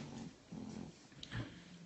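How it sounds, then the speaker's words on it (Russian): A female dog growls low and rumbling in short bursts, with a brief higher whimper near the end, fairly close, with no talking. "Да, это у нас пес."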